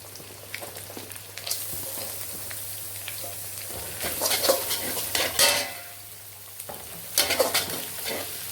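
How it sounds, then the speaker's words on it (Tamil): Onion sautéing in a pan on a full flame, cooked for chicken fried rice: a steady sizzle under repeated scraping stir strokes and clinks of a utensil against the pan, louder in a few bursts. "இப்போ வெங்காயம் போட்டு லைட்டாக வதக்கியிருக்கோம்."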